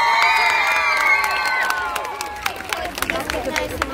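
A concert audience cheers the girl dancers, opening with high shouted voices that give way to scattered, sharp clapping which grows through the second half.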